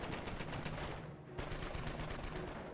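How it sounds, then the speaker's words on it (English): Rapid machine gun fire in the Company of Heroes strategy game, steady bursts of repeated shots running nearly the whole time with a brief gap, loud and close over battle noise. "he has a very strong pin in place with this machine gun"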